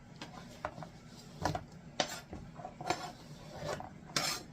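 A knife chops cauliflower on a board in a quiet kitchen, making irregular light taps and clacks spaced a fraction of a second apart.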